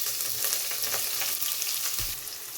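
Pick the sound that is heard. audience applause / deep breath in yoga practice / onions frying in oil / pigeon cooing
onions frying in oil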